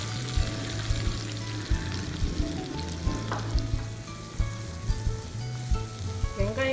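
Onions hitting hot oil with cumin seeds and frying for paneer keema masala: a steady, close sizzle with stirring scrapes and small crackles, no talking.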